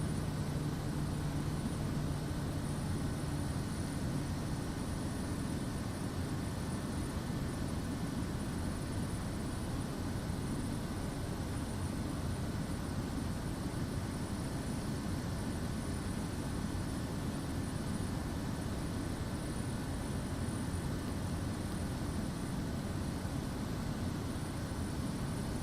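Steady, loud drone of a Kodiak aircraft engine in the flight simulator MSFS2024, a continuous broadband propeller hum that holds evenly throughout with no talk.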